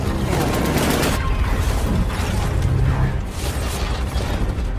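Dense bursts of gunfire fill an air battle with German fighters, loud and continuous, with rapid popping volleys layered over a rumbling low roar.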